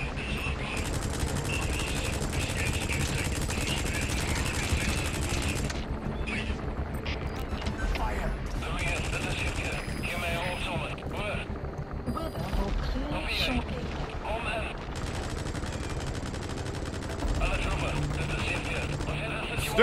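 Sustained gunfire and automatic bursts in Metal Gear Solid V: The Phantom Pain, loud and continuous throughout with mechanical rumble underneath and a voice talking over it.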